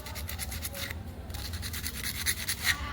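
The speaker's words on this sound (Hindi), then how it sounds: "रेगमाल फेर लेना है इस पर" Sandpaper rubs a burr off the shuttle of a Usha sewing machine, quick rhythmic scratchy strokes, close and fairly faint, repeating back and forth with a short pause partway through.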